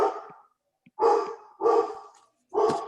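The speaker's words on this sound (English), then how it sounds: "Start barking at the mans." A dog barks indoors in three or four loud, close bursts, each about half a second long, with short gaps of silence between them.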